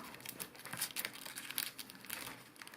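Origami paper for a scorpion model is folded, squashed and creased by hand, giving close, crisp crinkles and rustles in quick irregular bursts, with no voices.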